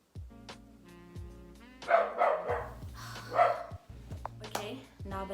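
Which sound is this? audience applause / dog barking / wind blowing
dog barking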